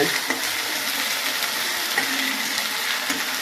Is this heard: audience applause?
no